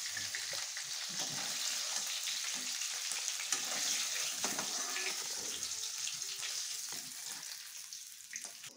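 Fish pieces frying in hot oil in a pan give a dense, steady sizzle with crackling spatters that holds loud and close for the whole stretch, with no voices.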